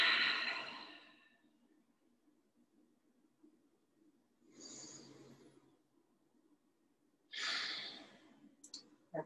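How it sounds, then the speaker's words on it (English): Slow, deep breaths during a pranayama breath exercise: three long airy exhalations separated by quiet pauses, close and clear with no talking. "Breathing."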